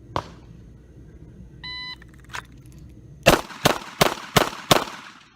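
A Ruger LCRx 3-inch .38 Special revolver fired on an outdoor range after an electronic shot-timer beep: a steady tone, then five sharp, loud shots in quick even succession, with no talking.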